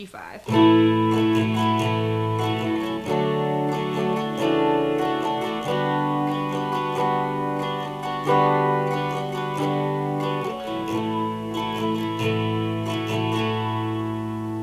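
A distorted guitar plays a slow sequence of sustained chords starting from a G5, changing every couple of seconds, loud and steady with no voices.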